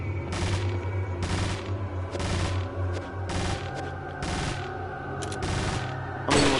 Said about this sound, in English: I don't understand how Leon does not hear these gunshots. Especially from a fucking sniper rifle?